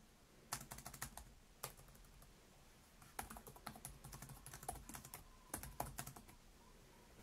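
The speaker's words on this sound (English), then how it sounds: "The keyboard feels really nice to type on, good key travel and good response." Typing on the keyboard of a Lenovo Flex 5i Chromebook, close and crisp, with bursts of rapid key clicks separated by short pauses and no voice.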